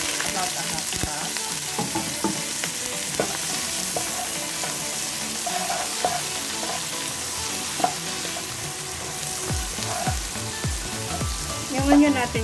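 Onions fry in a pan to a steady close sizzle, with repeated utensil taps and scrapes of stirring throughout and no talking.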